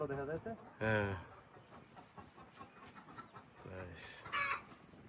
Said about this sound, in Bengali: হ্যাঁ ওই যে মুরগি দেখা যায়